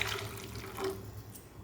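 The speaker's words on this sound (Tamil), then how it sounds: "அதனால் இப்போ கொஞ்சம் அதிகமாக தண்ணி சேர்த்துக்கலாம்." Water poured into a parotta salna curry in a cooking pot, a soft, brief splashing trickle heard close up with no talk.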